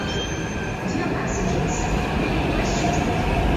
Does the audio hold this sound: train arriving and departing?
yes